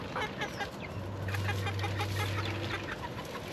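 Backyard chickens clucking softly around a muddy yard, scattered short clucks under a low steady hum, with a voice speaking nearby.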